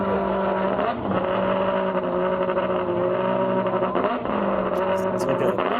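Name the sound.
Ferrari engine revving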